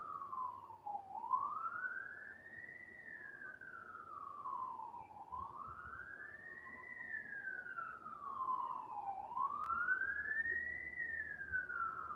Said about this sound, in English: there's a lot of ambulances out there